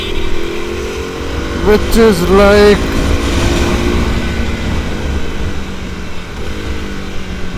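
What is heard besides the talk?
KTM motorcycle exhaust note with wrapped exhaust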